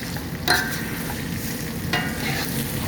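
Rice sautés in a pan with a steady low sizzle. Two sharp scrapes of a stirring spoon come about a second and a half apart.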